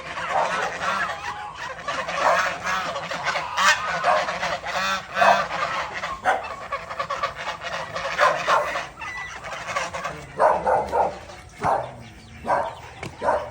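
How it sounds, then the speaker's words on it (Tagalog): Several geese honk loudly and repeatedly close by, mixed with ducks and turkeys gobbling and clucking in a busy, noisy farm flock. "May gansa, bibe, pabo."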